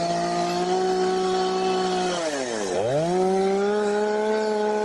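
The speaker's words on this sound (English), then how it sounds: "Chainsaw thing there." A chainsaw cutting down a tree, a loud, steady buzzing engine that dips in pitch as the blade bogs into the wood, then revs back up, close and alone without talk.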